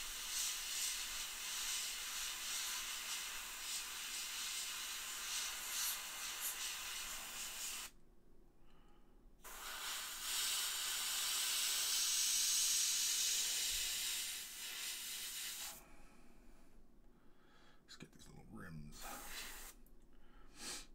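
Airbrush spraying paint while shading a McFarlane Hellblaster Primaris marine figure: a steady airy hiss in two long bursts separated by a short pause, then a final sputtering spray, with quiet talk between passes.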